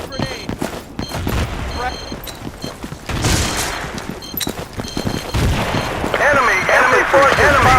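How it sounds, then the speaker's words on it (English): Battlefield 2 infantry combat, with a frag grenade blast and sustained bursts of gunfire, several loud booms among rattling shots, and a chaotic mix that builds toward the end under game radio voices. "Frag grenade!"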